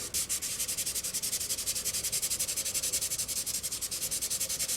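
Folded sandpaper is rubbed by hand over a Moebius 2001 EVA pod model part, making fast, even back-and-forth scratchy strokes, close and steady throughout with no talk.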